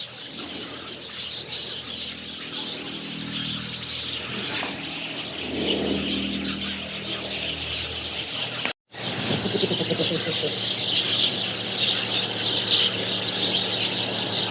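A flock of house sparrows chirps in a Ukrainian village, a busy, continuous chatter of overlapping tweets close by. A voice is briefly heard under the birds partway through.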